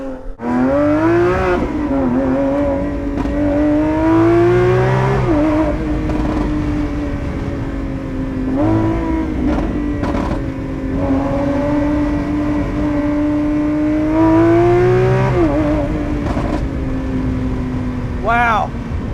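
A naturally aspirated Lamborghini Aventador SVJ Roadster from 2022, its engine droning loudly and continuously while driven, with pitch climbing through revs, dropping at shifts around five and fifteen seconds, and climbing again.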